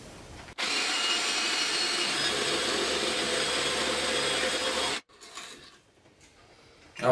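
A Peugeot 18V cordless jigsaw saws through a wooden board in one steady, loud buzzing run of about four seconds, then stops abruptly, leaving quieter handling noise and a final clunk.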